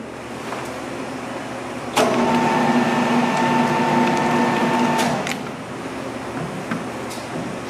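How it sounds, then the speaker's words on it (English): A butcher shop meat grinder running briefly as ground beef is swirled into a narrow deep tray, a steady motor hum with a humming tone that starts sharply and cuts off after about three seconds, close, over background shop noise. "It's gonna take about 3 to 4 swirls each time the grinder turns on"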